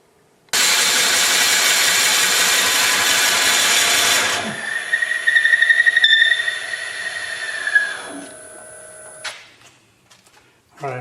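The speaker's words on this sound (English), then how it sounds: "So I'm going to drill this out all the way to right there." A drill bores out a pallet wood vase blank mounted on a faceplate, starting abruptly with a loud, steady grinding whir, then shifting to a quieter whining spin with a tonal hum before stopping.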